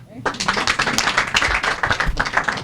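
An audience claps for the Art and Culture minister, a dense run of hand claps at medium distance with a voice speaking over it.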